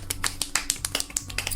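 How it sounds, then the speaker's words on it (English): Soft, polite golf clap: a few light, sparse hand claps in a brief, uneven patter, close and quiet with no talking. "Golf clap for me."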